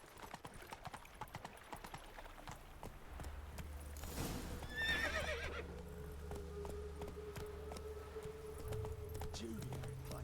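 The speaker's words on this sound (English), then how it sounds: "Run, Roach." Horse galloping in The Witcher 3 game, steady clip-clop hoofbeats under a loud whinny in the middle, with game music and ambience throughout.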